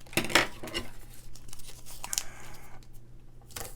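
Westcott non-stick scissors cut paper strips for card making, giving a few crisp snips and rustles close up against a quiet room hum, with no talking.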